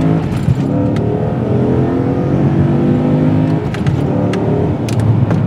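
A V8-swapped Toyota Altezza with a manual gearbox accelerates hard, its deep engine note climbing steadily in pitch under load, loud and close from inside the car, with brief dips suggesting gear shifts.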